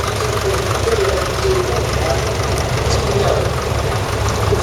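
A vintage tractor with an old commercial engine runs steadily in a parade ring at a country show, a continuous low rumbling drone at moderate loudness with faint crowd and voice noise beneath.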